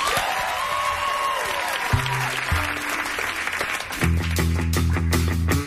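A talk-show studio audience applauds the band, with steady clapping and cheering that fills the whole stretch, while loud band music swells up underneath toward the end.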